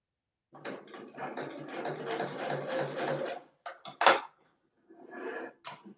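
A domestic sewing machine stitches a boxy bag up close, running in a long steady burst of rapid needle clatter, then a brief stop-start and another short run.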